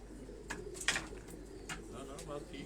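Pigeons at a Lahore pigeon loft give soft, low cooing calls in a few scattered bursts over a quiet, murmuring background.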